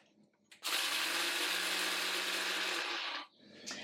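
Electric grinder coarsely grinding cumin and crushed red chilli, a loud steady motor whir that starts suddenly, runs for about two and a half seconds and stops sharply, with a quiet room before and after.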